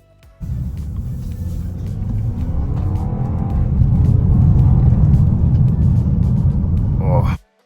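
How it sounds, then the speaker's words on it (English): A 2025 Audi A5 with 146 kW and front-wheel drive pulls hard along the N1 toward Cape Town. Loud, close engine rumble swells in after a short quiet start, climbs steadily in strength, then stops suddenly. "let's see what the car can do with 146 kilowatts under my right foot"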